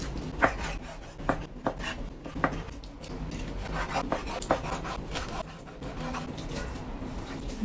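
Knife slicing chicken breast thinly on a board, an irregular series of soft scraping strokes and light taps close up, fairly quiet and without talk.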